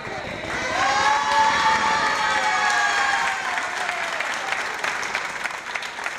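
A crowd gathered at the doors of the Gandia train station breaks into loud, dense applause mixed with cheering, swelling early and then tapering slightly while continuing steadily to the end.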